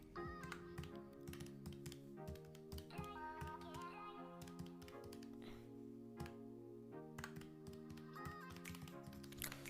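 Soft, quick tapping on a computer keyboard continues throughout, faint clicks set against steady tonal background sound.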